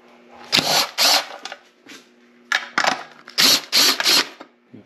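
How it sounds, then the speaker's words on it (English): Ratchet wrench clicking in quick bursts while loosening the valve cover bolts on a 1977 Corvette engine, close up, with short pauses between strokes and no talking. "I'll get a wrench. So we'll pull this valve cover off real quick."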